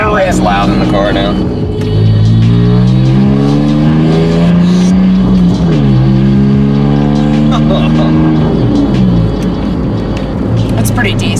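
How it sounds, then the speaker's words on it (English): A loud BMW pulling out and accelerating, heard from inside the cabin: engine pitch climbs through the gears, drops at each shift, then climbs again, with a heavy roar throughout. "It's loud in the car now."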